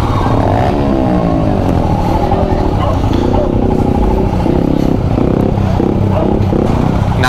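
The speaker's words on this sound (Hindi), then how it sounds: "यहाँ पे ऑलरेडी काफ़ी बाइक्स है और ये रेविंग चालू" Several motorcycles, among them a Royal Enfield Himalayan, rev and idle at a roadside stop on NH 48 during an Independence Day ride. The engines make a loud, continuous throbbing rumble with rising and falling revs up close.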